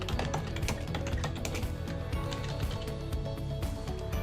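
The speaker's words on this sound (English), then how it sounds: "so you will have to type that in as well" Steady, fast clicking of keys on a computer keyboard, close and continuous, with no one speaking.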